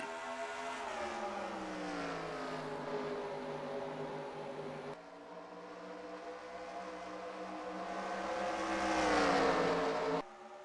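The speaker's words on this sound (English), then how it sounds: "Green flag in the air, and we are racing at the New Hampshire Motor Speedway." Race car engines at New Hampshire Motor Speedway in a racing game, a steady droning whine with harmonic tones sliding down and then up again as the cars pass, rising toward the end before cutting off abruptly, with no voices.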